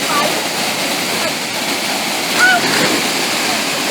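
Waterfall at Cachoeira do Formiga in Jalapão, Brazil, a steady loud rush of falling water throughout, with brief faint voices mixed in.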